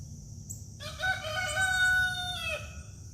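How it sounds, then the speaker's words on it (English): A rooster crows once, a single loud drawn-out call close by, over a quiet outdoor background. "He crowed early this morning, and he just now crowed again."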